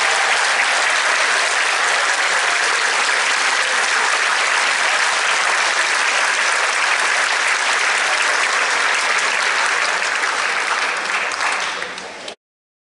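A large audience at a high school senior awards concert claps continuously for a performing class in a dense, even wash of applause that holds steady for several seconds before stopping abruptly.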